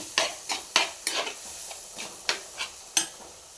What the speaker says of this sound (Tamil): மிளகாத்தூள் போட்டு நல்லா வதக்கணும்